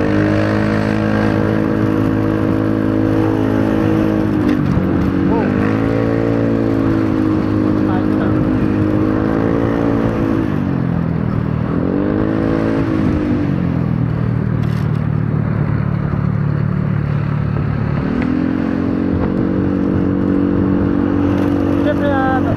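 Motorcycle ridden through traffic, a steady loud engine drone with shifting pitch as it accelerates and eases off, running continuously close by with someone talking over it.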